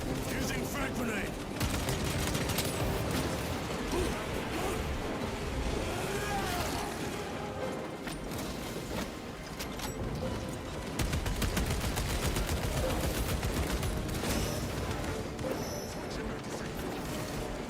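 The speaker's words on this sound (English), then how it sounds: "Grenade deployed. I love it. Let them go. Using frag grenade." Frag grenade blasts and rapid gunfire fill a space shooter game battle, a dense, continuous barrage of shots and explosions running throughout, with a voice talking over the action.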